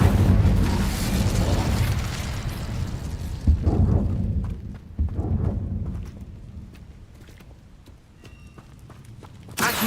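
The Incendio fire spell cast in the video game Hogwarts Legacy: a loud, roaring whoosh of flame up front that fades into crackling bursts, scattered impacts and quieter clatter.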